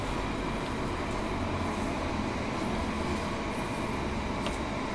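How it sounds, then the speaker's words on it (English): A Bakerloo Line tube train arriving through a tunnel in the Train Sim World 2 video game: a steady, dense rumbling roar with rail noise, continuous and fairly loud throughout, with no talking. "Oh wait, it's the train coming in."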